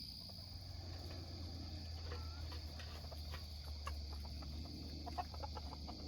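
At dusk, a backyard flock of chickens, including Americanas, settles onto the roost with faint, scattered clucks and soft murmurs, heard from a distance over a steady chorus of crickets.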